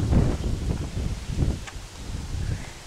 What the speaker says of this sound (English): Oh, the wind kicks up again.